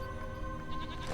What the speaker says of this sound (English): Bad luck. A goat.